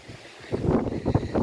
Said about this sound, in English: It's really windy, as you can see